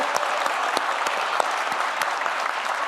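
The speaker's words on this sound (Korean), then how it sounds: "박수 좀 많이 좀 쳐주십시오" An audience applauds steadily, a dense wash of many hands clapping with a few louder nearby claps standing out, sustained and with no talk over it.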